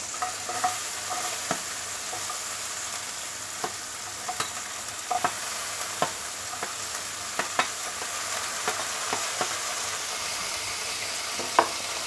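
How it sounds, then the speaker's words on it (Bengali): Chopped onion frying in hot oil for a spicy prawn curry, a steady crackling sizzle with sharp spatula clicks and stirring scrapes scattered throughout, close and continuous with no talking. "এই তেলে আমি পেঁয়াজ কুচানোটা দিয়ে দেবো"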